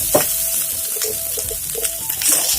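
Ingredients for a traditional sadya koottucurry fry in oil until browned, giving a close, steady sizzle with occasional stirring scrapes and small crackles, and no voices.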